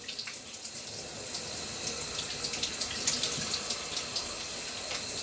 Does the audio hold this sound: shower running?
yes